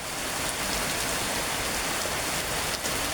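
Heavy rain with strong wind pours steadily in the town of Banjarbaru, a dense, loud, continuous hiss of rain on surfaces with no voices.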